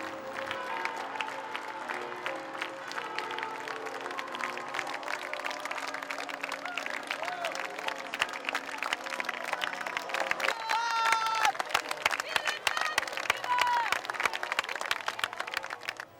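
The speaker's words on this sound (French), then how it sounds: "soudain, surgit la papa mobile sous les applaudissements" A large crowd at Lourdes applauds as the popemobile of John Paul II arrives, sustained distant clapping that swells louder toward the end, with scattered voices and faint tones through it.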